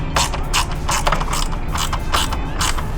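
A ratcheting screwdriver or short-handled driver snugging screws on a Harley-Davidson saddlebag during a bag install, giving a rapid, even series of close, crisp mechanical clicks with no voices.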